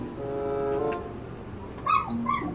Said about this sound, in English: 2 more dogs here.